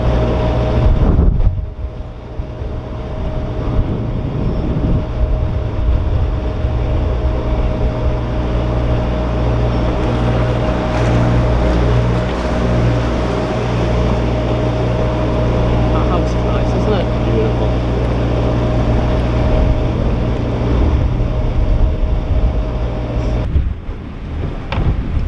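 A narrowboat engine runs at open throttle on a river, a steady low chugging drone under wind and water noise that lasts most of the stretch before cutting off near the end.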